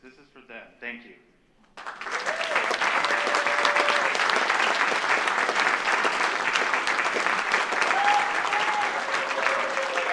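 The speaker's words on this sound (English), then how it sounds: "One more applause for our award winners right now." A barbershop district convention audience bursts into sustained, loud applause for award winners, the clapping swelling after a brief spoken line and holding steady as a dense wash of hands with scattered cheers.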